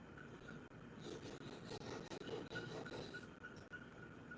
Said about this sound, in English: Just some quick little deburring runs.